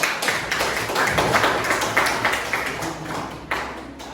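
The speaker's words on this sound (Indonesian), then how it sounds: "Dari kelompok 1, boleh diberikan tepuk tangan." Classroom group clapping for the first group at a teacher performance exam session, a dense, steady patter of many hands lasting several seconds, fairly close and continuous with slight swells.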